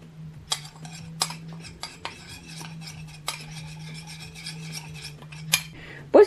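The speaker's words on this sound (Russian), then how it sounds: "Перемешивая, видите, смесь суховатая, поэтому я добавляю капельку воды" A spoon scrapes and rasps against a bowl while stirring a dry, slightly crumbly homemade mixture, in uneven gritty strokes with occasional sharper clinks, close and fairly quiet over a low steady hum.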